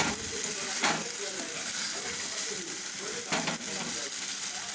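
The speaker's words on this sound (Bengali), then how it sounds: "এ দেখো ধার থেকে তেল ছাড়ছে, আমার মশলাটা পেকে এসছে, কষা হয়ে এসছে" Spiced masala for a prawn curry sizzles and fries steadily in hot oil, a loud continuous crackle close up, with two brief stirring scrapes partway through.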